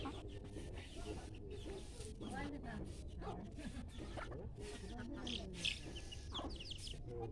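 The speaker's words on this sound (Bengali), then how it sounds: "এই গলা ছিলা মোরগ" A naked-neck rooster in a village clucks in soft, scattered bursts at a distance, with people talking over it throughout.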